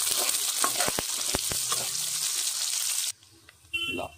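Onions frying in oil for a broccoli fry give a steady close sizzle with a few sharp stirring clicks. The sizzle drops out briefly near the end, then returns.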